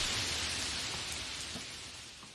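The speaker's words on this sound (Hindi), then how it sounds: "लेकिन रात में अचानक बारिश होने लगती है।" Steady rain at night hisses down in a soft, even wash of noise, slowly fading a little, with no voices.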